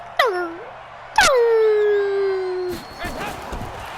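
Two drawn-out, falling dog-like howls from the video game Madden NFL 20 sound one after another, the second longer and sliding down in pitch, followed by faint murmuring.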